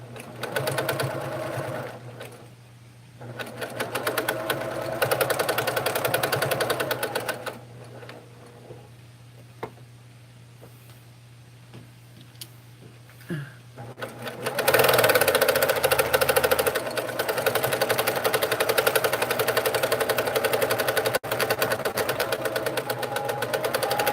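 A sewing machine runs in loud bursts while quilting swirls into fabric. Its rapid stitching chatter pauses midway and then resumes strongly, as the bobbin runs out.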